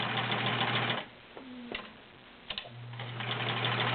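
Older Kenmore 1516 sewing machine with all-metal gears, freshly timed, running in a steady close whir that pauses briefly in the middle before resuming, with faint clicks during the break.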